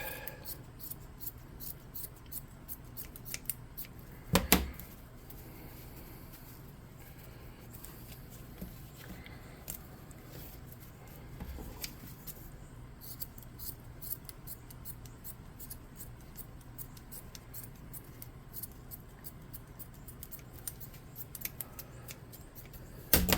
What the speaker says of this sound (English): Let's get our excess that we don't need and snip that away.